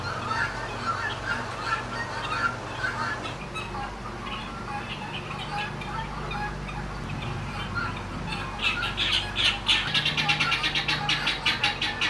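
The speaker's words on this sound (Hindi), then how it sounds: "अब इस तरफ देसी मुर्गियां हैं, इन्होंने तो शदीद एहतजाज करना शुरू किया है मेरे ख़िलाफ़।" Desi hens at a livestock market clucking and squawking all at once, a busy, overlapping chorus close by that grows denser and sharper toward the end.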